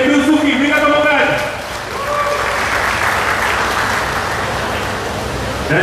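Crowd at a political youth rally in Pekan applauds loudly after an announcement, a dense sustained burst of clapping mixed with someone speaking over a PA at the start, easing briefly then swelling again.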